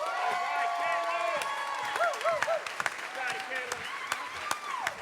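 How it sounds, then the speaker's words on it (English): Audience at a live stage show in Los Angeles applauding and cheering, a dense wash of clapping with scattered whoops, while a host talks over it through a PA. "let's keep that applause going for our next cast member, Miss Kayla Gosnell"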